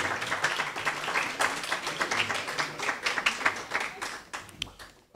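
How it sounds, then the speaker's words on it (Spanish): Audience applause greeting panel speakers at an academic conference on privatization of higher education in Latin America, steady dense clapping from a room crowd lasting several seconds, fading slightly toward the end with some faint voices mixed in. "aplausos para ellos, por favor, y a Leonardo Fabián Fellman."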